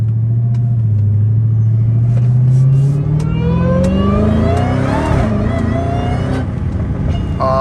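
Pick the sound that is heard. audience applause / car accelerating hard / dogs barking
car accelerating hard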